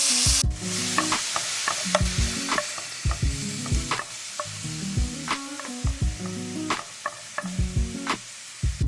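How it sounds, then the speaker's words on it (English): Onion sautéing in olive oil over medium heat in a pan: a constant bright sizzle with repeated spatula scrapes and stirring knocks in a loose rhythm, loud and close, with no talking. "Let your onion saute for 2 minutes."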